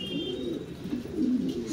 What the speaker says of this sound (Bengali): এখানে কিছু কবুতর আছে